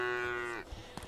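A cow in the Craftopia video game gives a single short moo, a loud drawn-out tone that drops off, followed by faint thumps.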